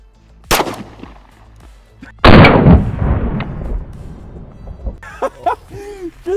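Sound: gunshot from 5.7x28 pistol round

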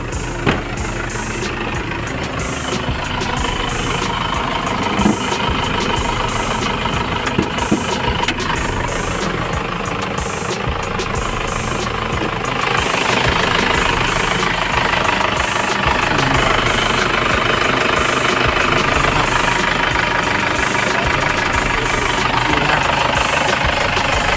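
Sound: pickup truck turbo diesel engine idling

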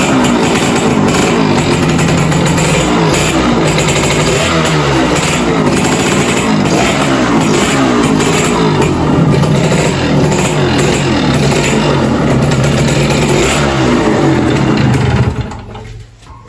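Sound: old motorcycle engine running and revving

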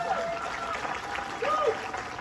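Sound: wedding guests applauding

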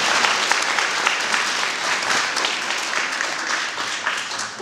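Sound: audience applause at a school evening event

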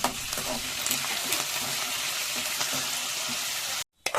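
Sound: curry leaves frying in oil

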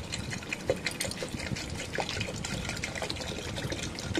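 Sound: water poured into pan of frying dalia and spices

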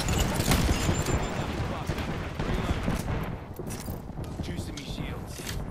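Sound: gunfire in the video game Apex Legends

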